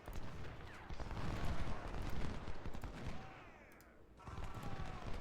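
Civil War battle in the Ultimate General: Civil War video game, with dense crackling musket volleys and booming artillery fire rolling continuously, briefly thinning before swelling again.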